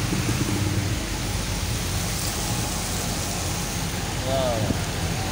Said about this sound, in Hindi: बारिश की तेज़ रफ्तारी और साथ में ट्रैफिक की भी तेज़ रफ्तारी